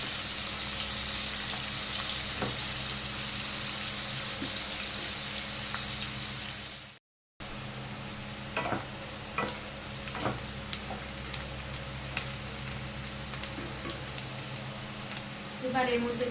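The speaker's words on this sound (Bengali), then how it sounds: "পেঁয়াজটা ভালো করে ভাজতে হবে একটু লাল লাল করে" Onions frying in a pan until reddish, a continuous hissing sizzle with intermittent stirring scrapes and knocks, broken by a brief silent cut partway through.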